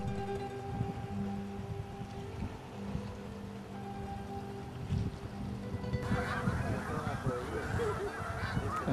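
Thousands of snow geese on the south shore of the St. Lawrence River honk in a dense, continuous chorus of overlapping calls, with the flock growing louder and busier toward the end.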